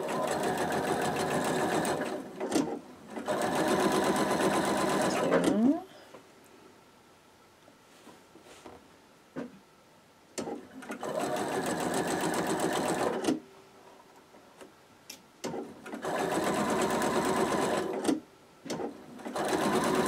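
A sewing machine stitches a quilt block in three long whirring bursts separated by quiet pauses with small clicks and handling noises, loud and close, with no talk.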